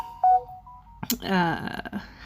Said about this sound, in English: Oops, sorry guys, I forgot to mute my phone.